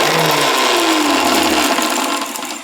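A kitchen mixer grinder whirs as it grinds coconut masala paste without onion or garlic for amti, a loud, steady motor whine whose pitch drops as the blades spin down at the end.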